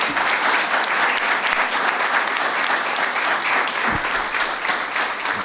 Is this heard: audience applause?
yes